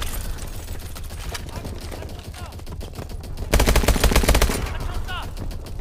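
Gunfire in the video game Call of Duty Advanced Warfare comes in loud rapid automatic bursts, the heaviest volley in the second half, with game effects around it.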